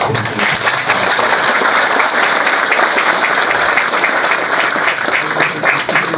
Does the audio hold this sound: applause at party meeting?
yes